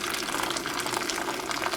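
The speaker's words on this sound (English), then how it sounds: "if you put your thumb against the lid, you can see that the water will very easily pour" Hot water pours steadily from an MSR Trail Lite 1.3 L camping pot into a DeepDish bowl, a close, continuous splashing trickle.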